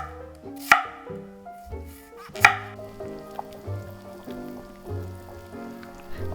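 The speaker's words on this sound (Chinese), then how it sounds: "一整颗洋葱切片，2颗也不嫌多。" A knife slices a whole onion on a cutting board, with two sharp, distinct chops standing out and softer cuts following, all under gentle background music.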